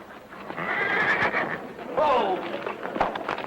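Horse neighing loudly close by, a long whinny followed by a second call, with hooves clip-clopping underneath.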